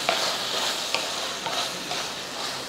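Squid pieces frying in a pan with pepper powder and curry leaves for a squid fry, a dense, bright sizzle with a few sharp scrapes of a spoon stirring, close and steady.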